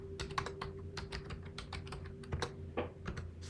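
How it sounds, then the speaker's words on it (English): Typing a number on a computer keyboard while working in a Microsoft Excel spreadsheet: a quick run of light, close key clicks in an uneven rhythm, quiet over a faint steady hum. "I'm going to type in a number."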